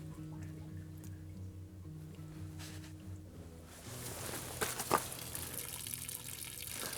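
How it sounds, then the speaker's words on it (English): Water draining from the plumbing system of a DIY VW Crafter campervan build, a faint low hum at first, then a soft steady rush and trickle of flowing water with a small clunk midway. "I'm just going to just drain some water out now"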